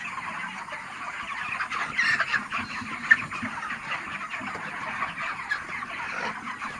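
A poultry farm of large chickens about 32 days old keeps up a steady, soft murmur of clucking from many birds, with a few louder calls standing out. No voices are heard.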